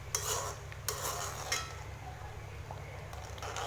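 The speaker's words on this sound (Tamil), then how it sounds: "ரொம்ப திக்காக வரும்போது இந்த மாதிரி பபிள்ஸ் நிறைய வரும்." Karaikudi-style chili chutney thickening in a pan over low heat, with a soft continuous bubbling and spluttering bed plus several sharp pops and light utensil taps, close by.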